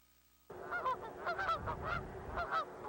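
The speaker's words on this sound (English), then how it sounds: "As the geese begin to migrate north" A flock of geese migrating north honks in a dense, overlapping chorus, loud and close, starting abruptly and continuing steadily with repeated nasal calls.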